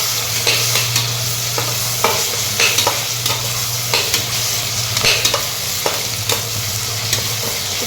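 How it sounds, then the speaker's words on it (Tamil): Tomatoes frying with ginger garlic paste in a pan give a steady sizzle, broken by repeated stirring scrapes and clicks of a utensil against the pan, close and fairly loud, with no talking. "நாங்கள் தக்காளியை வந்து போட்டுக்கிட்டாச்சு"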